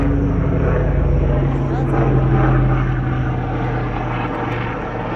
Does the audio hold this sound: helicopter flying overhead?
yes